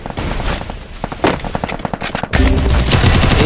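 Rapid bursts of gunfire from a shooting video game during a headshot kill, sharp repeated shots in quick rhythmic volleys, then a louder, denser stretch of firing near the end.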